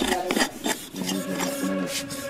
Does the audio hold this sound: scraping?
yes